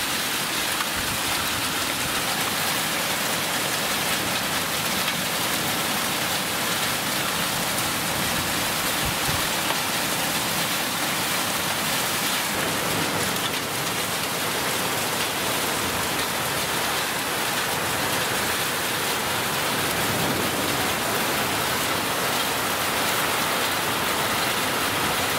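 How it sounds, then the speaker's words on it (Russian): Heavy rain, with hail, pours onto a vineyard after a spell of hot weather, a dense, steady roar of falling water that stays loud and unbroken throughout. "После жаркой погоды пришел сильный дождь и пришел град."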